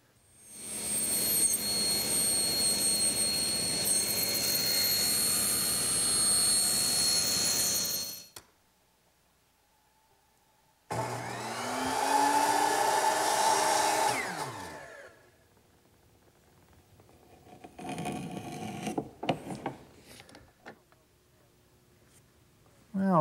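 A saw rips the excess off a wooden molding strip in loud bursts of harsh, high-pitched whining roar, separated by near-silent gaps.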